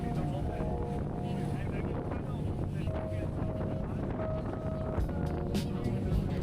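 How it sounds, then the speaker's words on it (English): A passenger ferry crosses the open ocean off Brisbane toward Tangalooma Island, its engine droning in a steady low rumble with constant wind buffeting and water rush, faint voices drifting through now and then. "everyone was enjoying the views from the ferry"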